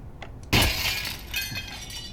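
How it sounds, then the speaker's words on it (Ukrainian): Window glass shatters in Counter-Strike 2 on the map Flick, a sharp loud crash that bursts in suddenly and then trails off into scattered tinkling fragments. "тут одне це вікно розбивається"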